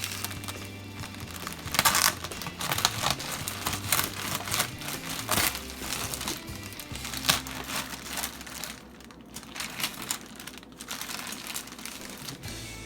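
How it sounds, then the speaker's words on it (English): Knife cutting and tearing plastic wrapping off a fully cooked Thanksgiving turkey, quiet crinkling, scraping and tapping in irregular bursts close by, with no talking. "now we're going to cut the plastic away from it."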